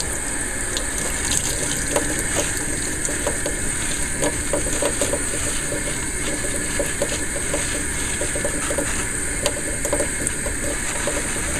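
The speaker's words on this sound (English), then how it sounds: "just start getting it wet a little bit, and then we'll just start scrubbing" A hummingbird feeder gets washed with dish soap under a running tap, with a steady, close stream of water splashing continuously and faint scrubbing beneath it. No one speaks.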